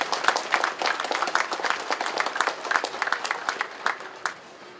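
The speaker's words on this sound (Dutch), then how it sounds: "Dus ook voor Kees een hartelijk applaus voor het werk wat hij allemaal gedaan heeft." An audience applauds a volunteer organiser during a mayor's King's Day speech, many hands clapping in a dense, steady patter that holds at fairly even loudness throughout.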